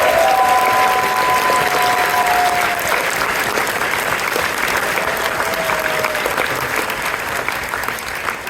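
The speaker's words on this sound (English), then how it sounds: "we have a big round of applause to all of the Metagame video team" A convention closing-ceremony crowd applauds loudly and steadily for several seconds, the clapping holding strong before easing slightly toward the end.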